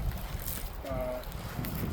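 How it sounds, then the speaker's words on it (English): Low, rumbling wind buffets the microphone continuously outdoors beside a 2017 Ford Raptor, muffled and uneven, with a faint tonal whine briefly rising in the middle. "It's windy, so covering the mic"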